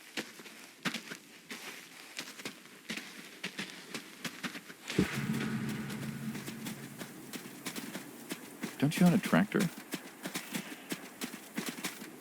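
Horse hooves clip-clop steadily in a western video game, a continuous rhythmic trot close by, with a voice speaking over part of it and a livelier burst of hoofbeats near the end.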